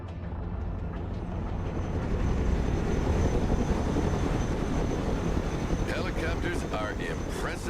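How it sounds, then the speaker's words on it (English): Loud, steady helicopter rotor and engine noise in the video game Broken Arrow drones throughout, a close, dense roar with faint voice-like sounds near the end. "Helicopters are impressive machines. Boy, are they noisy."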